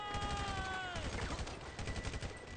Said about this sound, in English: I did keep firing rockets.